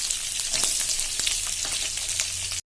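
Cumin seeds, green chilies and onions frying in hot oil, a dense crackling sizzle with scattered sharp pops and spatters, close and continuous until it cuts off abruptly.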